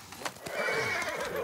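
In the video game Ghost of Tsushima, a horse gives a sustained whinny over the soft clip-clop of hooves, moderately loud and close.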